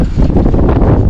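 Strong wind blows across a catamaran at sea off Cannes under grey late-July skies, a loud, close, low buffeting rumble on the microphone lasting about a second.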